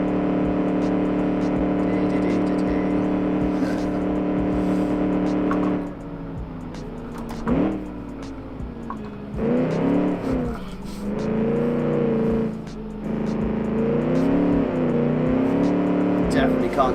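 A 1946 Gasmea race car engine in a racing game screams at high revs and bounces off the rev limiter with a buzzing harmonic drone, then dips and climbs again through several gears, loud and close.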